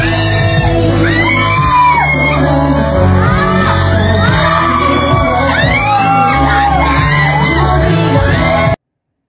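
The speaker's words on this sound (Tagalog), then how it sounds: "marinig ang hiyawan ng mga kaibigan nila na talagang kinikilig sa kanilang dalawa" Friends at a birthday party shout, whoop and cheer together in a lively crowd, overlapping voices rising in bursts throughout, loud and close, with singing-like calls mixed in.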